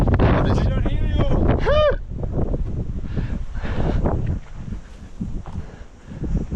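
Extreme wind buffets a microphone during a solo mountain climb, a loud, steady roar of gusts throughout with a voice calling out briefly near the start.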